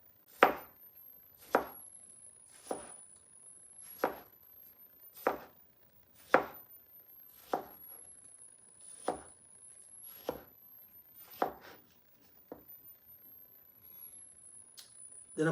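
Knife chopping salad vegetables on a board for a loaded garden salad, about a dozen crisp, evenly spaced cuts roughly once a second, close and clear over a quiet background.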